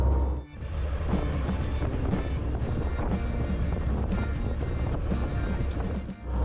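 A 1935 Ford coupe with a flathead V8, parked for fifty years, rolls along in third gear at a steady 10 mph, its engine rumbling low and continuous with a brief dip near the start and end.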